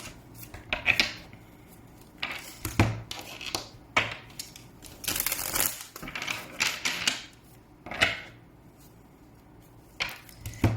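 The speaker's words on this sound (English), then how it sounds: "as I go ahead and shuffle the cards" Tarot cards being shuffled, with soft papery riffles, slaps and scrapes in irregular bursts, close and fairly quiet with no talking.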